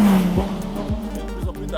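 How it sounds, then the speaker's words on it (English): A BMW V8 hybrid prototype race car on track for its first laps, a loud engine drone with quick pitch sweeps from gear shifts, heard up close. "These are the very first laps of the BMW prototype for the WRT team."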